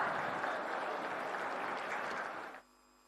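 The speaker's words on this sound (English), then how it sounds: "A huge round of applause, everyone." Dense, even audience applause at a factory inauguration event, a continuous wash of clapping that cuts off abruptly after about two and a half seconds into a quiet room with faint hum.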